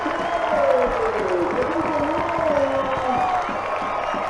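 Stadium crowd at a Brisbane Roar versus Melbourne Victory football match roars steadily after a goal, with sustained cheering, whoops and a rising horn-like tone, loud and continuous throughout.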